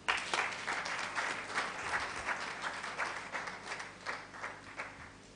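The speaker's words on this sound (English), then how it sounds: "Let's clap for him." A crowd applauds steadily at a university valedictory lecture, the clapping fairly faint and distant, with a slightly rhythmic swell throughout.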